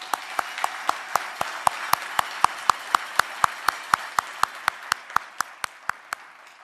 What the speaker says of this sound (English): a round of applause for Matthew